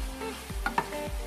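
Bolognese sauce is stirred in a pan with a few soft scraping strokes over a faint, steady sizzle, close and quiet, with no talking.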